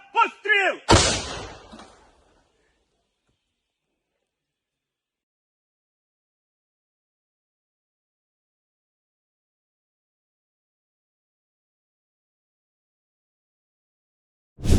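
A voice shouts a firing command in Ukrainian, then a single loud artillery gun blast booms out and dies away into long silence.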